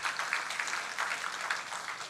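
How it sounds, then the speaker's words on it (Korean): A church congregation applauds in comfort for a bereaved family during a worship service, a steady, dense wash of clapping heard alone throughout at moderate distance. "우리 위로의 박수 하십시다."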